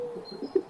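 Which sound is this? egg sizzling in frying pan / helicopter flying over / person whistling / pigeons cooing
pigeons cooing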